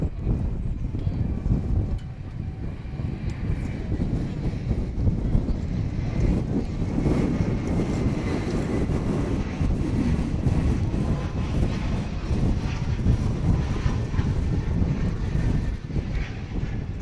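Airplane landing at Dallas/Fort Worth Airport, a continuous broad roar of engines and rushing air, heavy with gusty wind buffeting the microphone, steady and loud throughout with no talk.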